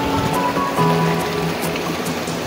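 Flowing river water rushes steadily and loudly while someone wades across it on the way to Mount Pinatubo, a constant splashing wash with faint tonal sounds riding on top.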